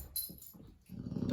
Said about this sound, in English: if she doesn't get the message with a growl, then he will nip at her nose.